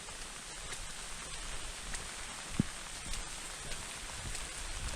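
Steady soft rain falling in a forest at the foot of the Phanom Dong Rak range during a storm, a faint even patter with a single small drop-like tick partway through, no voices.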